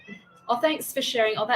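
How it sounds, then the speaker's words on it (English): A hungry house cat meows for dinner at home, a brief cry heard under a woman's close speech. "that's the cat. He's just meowed."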